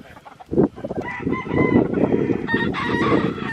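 A young fighting rooster, son of a six-fight gamecock, crows loudly and close, one drawn-out call layered with clucks and other fowl nearby, and no talk over it.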